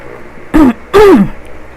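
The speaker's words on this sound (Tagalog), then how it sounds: "Medyo inubo ako kasi nagkasakit ako eh" A sick person clears their throat twice in quick succession, close and loud, with a short gap between the two harsh bursts and no talking.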